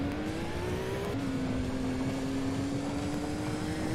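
Engine notes from a blue and yellow Subaru and a red and white Mitsubishi Evo racing in Gran Turismo 2, a sustained buzzy engine tone rising steadily in pitch after a brief gear-shift dip, alone without speech.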